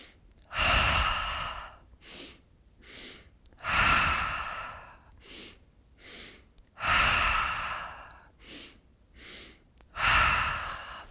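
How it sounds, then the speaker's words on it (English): Slow guided breathing exercise: two short inhales followed by one longer exhale, repeated in an even cycle four times, close and soft with no talking. "We'll inhale twice and then exhale 1 time."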